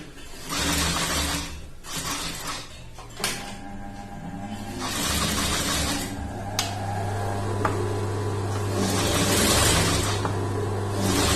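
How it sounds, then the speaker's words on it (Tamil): A sewing machine stitches an edge seam on churidar lining in several runs, its rapid mechanical chatter starting and stopping, with clicks and handling noises in between. "ஒரு எட்ஜ் தையல் போட்டுக்கலாம்."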